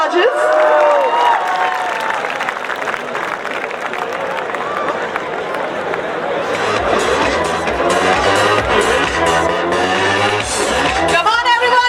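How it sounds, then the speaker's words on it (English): An audience at a fashion show final round applauds and cheers for the judges. Loud crowd clapping and shouts mix with music and an announcer's voice over the top, continuing steadily throughout. "Can we have a huge round of applause for our judges?"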